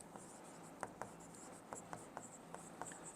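A pen scratches on paper while a maths problem is worked out, with soft irregular strokes and taps, close and quiet over a faint steady hiss.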